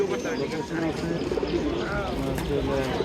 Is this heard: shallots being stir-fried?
no